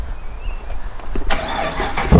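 A cammed 2013 Holden VF SSV Commodore V8 fires up by remote start, a short crank followed by a sudden burst of engine noise heard nearby.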